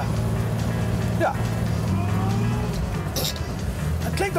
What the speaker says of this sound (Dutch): Het klinkt ook een beetje als een vrachtwagen.